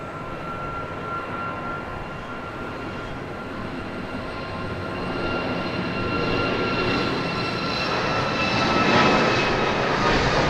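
Boeing 737 MAX jet engines roar at Dallas Love Field, a steady, broad rumble with a high whine that grows slightly louder toward the end, heard alone with no talk.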